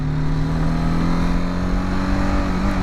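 A motorcycle engine held at a steady, buzzing rev inside a tunnel, loud and close with a strong droning tone and echoing rumble, no voices.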